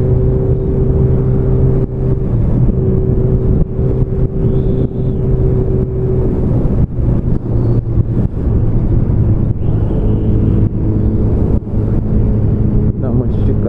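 A Honda CB1000R motorcycle is ridden on the road, its engine pitch climbing and falling through revs as it accelerates, with heavy wind buffeting the microphone throughout.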